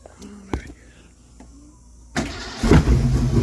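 A Mustang with a newly fitted Edelbrock carburetor cranks briefly and then catches, its engine roaring up loud and close after a quiet stretch with a few clicks and a faint whisper.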